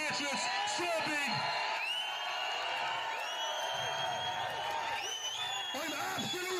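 A large protest crowd in Cork City, Ireland, whoops, yells and cheers at a distance, with a steady roar of many voices and a nearer voice speaking over it.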